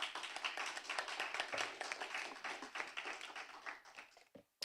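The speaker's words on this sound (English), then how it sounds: "Please give them a round of applause." A burst of audience applause after a debate round, many hands clapping densely and steadily for a few seconds before it quickly fades out.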